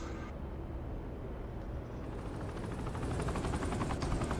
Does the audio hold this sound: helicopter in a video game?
yes